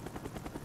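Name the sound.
helicopter flying in video game Call of Duty: Black Ops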